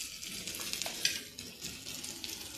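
Fish fries lightly in hot oil for a simple Bengali fish curry, giving off a soft, continuous sizzling hiss with faint bubbling throughout.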